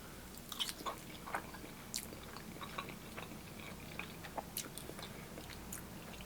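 Someone eats Korean fried chicken at a restaurant in Carlstadt, New Jersey, with close, crisp crunches and bites at an irregular pace, soft chewing and faint room noise between them.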